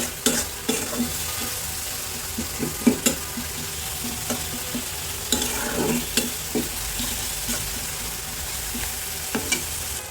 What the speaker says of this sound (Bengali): তেলের সাথে নেড়ে চেড়ে ভালো করে মিশিয়ে নিব ভালো করে ভাজতে হবে